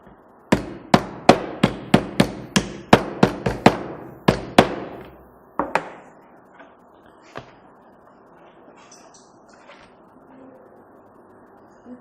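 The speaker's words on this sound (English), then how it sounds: "And use your hammer." A hammer strikes about a dozen times in a quick, uneven series of sharp, close raps while an Ankara fabric bag is assembled. A few softer taps come after, then quiet handling noise.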